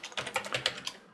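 Quick keystrokes on a computer keyboard while setting up a Lenovo ThinkCentre M93p desktop, a short burst of about half a dozen light, close clicks, then quiet.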